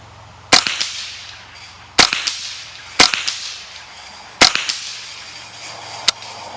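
Four sharp, loud rifle shots from a Ruger 10/22 in an MDT chassis, fired at uneven intervals to empty the magazine, followed by a fainter fifth shot, with each report trailing off in outdoor echo.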